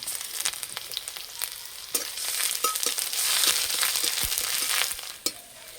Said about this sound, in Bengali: তেলে দেবো শুকনো লঙ্কা, তেজপাতা, থেতো করা রসুন, গ্রেট করা আদা